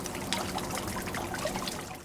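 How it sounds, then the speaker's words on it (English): Water trickles steadily through a memorial water feature, a continuous soft splashing flow heard up close with no voices. "there's a water feature that runs through here. From right here where I'm standing now, I can hear the water"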